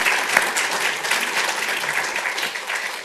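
Warm applause for Amy and the Dean at a 2016 health law and policy symposium, a dense, steady wash of clapping from an audience that carries evenly through the whole stretch without any talk over it.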